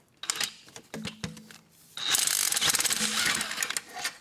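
Ratchet wrench loosening the last engine mount bolt during engine removal, a few slow clicks first, then a fast continuous ratcheting rattle, close up with no talking.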